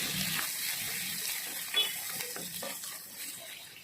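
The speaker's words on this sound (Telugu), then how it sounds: "ఇప్పుడు సాసవులు చిట్లిన తర్వాత 1 కప్పు ఆనియన్స్ వేసుకోవాలి. ఆనియన్స్ బ్రౌన్గా అయ్యే వరకు వేయించుకోవాలి." Chopped onions frying in hot oil with popped mustard seeds while cooking a chicken fry, giving a steady close sizzle with occasional stirring scrapes and no voices.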